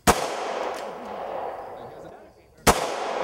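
Two sharp, loud gunshots from a recoiling firearm ring out about two and a half seconds apart, each followed by a long, reverberant decay with no talking.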